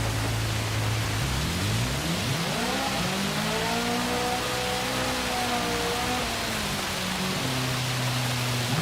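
Steady rain hisses over a race car in Gran Turismo 7, the engine note climbing and holding as it accelerates, then dropping back near the end, with no talking.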